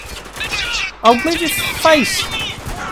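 Gunfire from the video game Spec Ops: The Line, with irregular shots and crackle sustained through the clip beneath someone speaking over the game.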